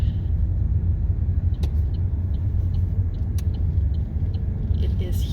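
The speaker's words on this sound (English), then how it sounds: "We're just doing a quick drive around." A car drives slowly around the walled city of Aigues-Mortes, giving a steady low engine rumble and road noise with a few faint clicks and knocks throughout.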